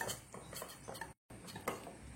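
A utensil stirs batter for a Mangalore-style breakfast in a pan with one steady circular motion, giving faint, rhythmic scraping and light metallic clinks, briefly cut off partway through.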